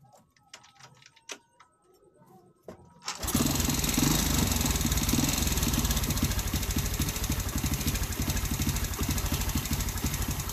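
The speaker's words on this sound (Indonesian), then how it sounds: "lanjut akan kita hidupkan kendaraannya" A Honda Supra 125 motorcycle engine starts after a carburetor service: a few quiet clicks and knocks, then the engine catches and settles into a loud, steady, close idle that runs to the end.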